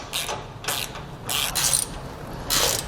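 Bolts on a boat trailer bracket being tightened with a ratchet, giving bursts of clicking, metallic ratcheting in four short, evenly spaced strokes, close and clear with no talk.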